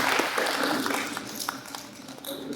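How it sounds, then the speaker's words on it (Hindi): An audience at a parenting workshop claps together in a dense, steady wash of applause that fades slightly partway through before swelling again, heard from within the hall. "तालियां इनके लिए"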